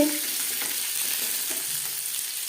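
Bhola fish pieces crowded into a pan of hot oil give a steady, close, dense sizzle with a constant crackling hiss throughout.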